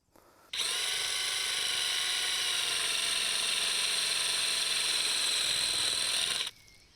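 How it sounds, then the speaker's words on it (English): A power drill whirs at a steady high pitch for about six seconds, starting and stopping abruptly, loud and close with no other sounds. "is to use a drill"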